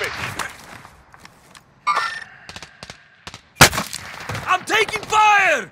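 Gunfire in the battle-royale game Warzone, with several sharp bursts and single shots scattered across the moment, some loud and close, mixed with game sounds and a voice.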